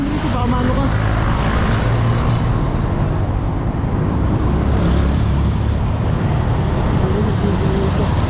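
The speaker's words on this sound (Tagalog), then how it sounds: "baka siya mahagip ng mga tumatakbong mga sasakyan ang bibilis pa naman po" Fast cars and motorcycles speed past on a busy road, a steady loud roar of traffic throughout with overlapping engine rumble and no clear gaps.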